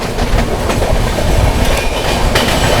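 Passenger train, an Arunachal AC Superfast, running on railway tracks in heavy monsoon rain, with a steady loud rumble and rhythmic clickety-clack of wheels over rail joints throughout, heard from on board with no talking.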